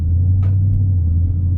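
A Dodge Charger SRT Hellcat Widebody accelerates at about quarter throttle, a deep, steady, loud engine rumble heard from inside the car with no voices.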